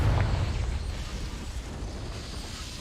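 A Confringo blasting spell going off in the video game Hogwarts Legacy, a loud rumbling burst that fades slowly over a few seconds with no voices.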